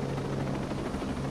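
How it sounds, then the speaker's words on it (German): A helicopter flies overhead in a first-person shooter video game, a steady droning rotor and engine hum holding constant and fairly loud throughout with no pauses. "Niemand fährt dieses Fahrzeug, es ist ein Heli, der fliegt"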